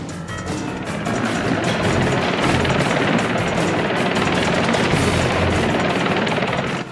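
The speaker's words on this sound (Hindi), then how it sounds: "हेलीकॉप्टर को और ऊपर की तरफ उड़ाओ। अभी उड़ाता हूँ" Loud, steady rotor thumping of a cartoon helicopter, starting abruptly and holding a constant roar with rapid chopping pulses.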